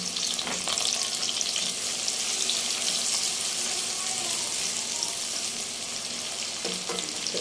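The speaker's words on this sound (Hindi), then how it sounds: "तो अब हम इसी तेल में ही डालते हैं ये प्याज।" Onions, two large ones washed and chopped, fry in hot oil in a home kitchen pan for a bitter gourd and chana dal dish, giving a steady close sizzle with faint clinks and no talk.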